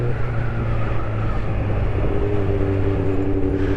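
A Honda CB400 Super Four 400cc motorcycle accelerating through the gears, a continuous loud engine drone with rising tones and wind rush, heard up close while riding.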